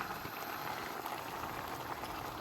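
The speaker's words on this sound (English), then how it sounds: "I ended the day by boiling some vegetables and cooking a soup to freeze to eat for later." Vegetables boil in a pot for soup, a steady bubbling hiss that runs without pause from start to finish at moderate loudness, with no voices over it.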